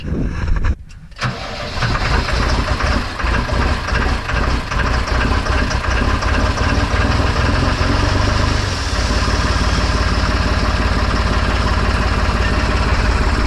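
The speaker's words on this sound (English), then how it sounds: "So it's running a little rough right now because there is air in the fuel system." New Holland TS115A tractor diesel engine cranking and firing up after injector line work, then idling loud and slightly rough with air in the fuel system, a steady close rumble throughout.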